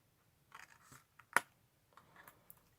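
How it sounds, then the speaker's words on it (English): Scissors snip through folded card to cut out a triangle for a pop-up book box, a few soft close cuts ending in one sharp crisp snip, with no talking. "And then with your scissors you just cut out a triangle here,"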